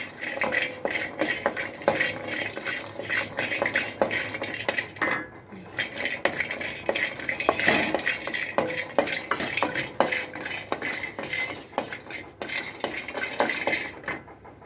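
Garlic roasts in ghee while a spoon stirs it around the pan, giving repeated close metallic scrapes and clinks in an uneven rhythm, with only a faint sizzle underneath.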